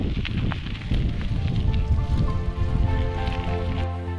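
Rain beginning to fall on a mountainside near a lake in Bosnia and Herzegovina, a dense patter mixed with wind and rustle, close and fairly loud with no speech.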